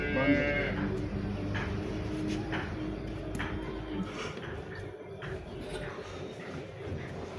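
A Cholistani Friesian cross cow lows in a farm setting, a steady bovine call running through much of the clip amid dense background noise and faint voices.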